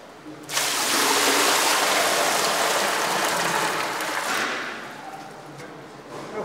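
Water pours into a cauldron for making loukoumi (Turkish delight) on Syros: a loud, steady gushing splash that starts abruptly, runs for about four seconds, then tapers off to a softer trickle.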